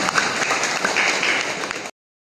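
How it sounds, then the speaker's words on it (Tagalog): A crowd bursts into loud applause, dense clapping filling the room for about two seconds before cutting off abruptly. "Malakas na palakpak po sa ating buhay na Diyos."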